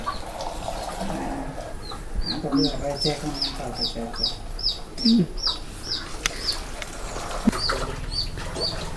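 Hens cluck in short, uneven bursts close by while small birds chirp in a quick repeating pattern in the background.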